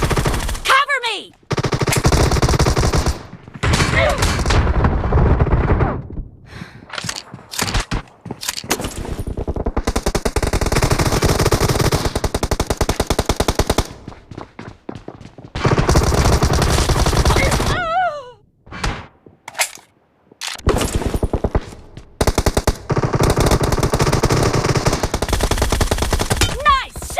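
Rapid bursts of automatic machine gun fire in the battle royale game PUBG, loud and repeated in long volleys with short pauses, while players call out to each other over the shooting.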